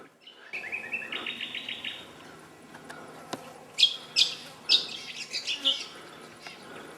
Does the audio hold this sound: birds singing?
yes